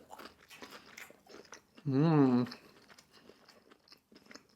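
Crunchy Popeyes garlic pepper fried chicken bitten and chewed close up, a single loud crisp crunch standing out between quieter chewing sounds.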